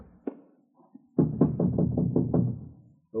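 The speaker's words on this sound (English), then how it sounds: "All right, knock." Several quick knocks rap on a door as a radio drama sound effect, a close, loud series of firm wooden thuds after a short pause, alone without talk.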